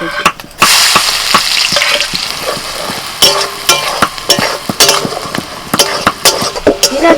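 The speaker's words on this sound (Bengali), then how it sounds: "কড়াইতে অল্প তেল দিয়ে দিয়েছি তেলের মধ্যে প্রথমে দিয়ে দিচ্ছি পেঁয়াজ" Onion pieces dropped into a little hot oil in a wok, with a loud steady sizzle broken by sharp scraping and clattering strokes of a spatula against the pan.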